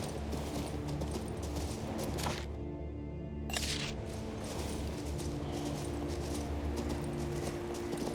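Horse hooves in the video game Kings Bounty II, a steady rhythmic clip-clop under game ambience, briefly cutting out and then resuming at moderate distance.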